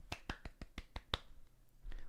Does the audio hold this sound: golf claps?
yes